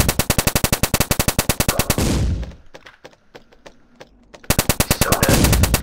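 Video game machine gun fire, fast loud regular bursts at close range, a pause with scattered distant shots, then another sustained burst.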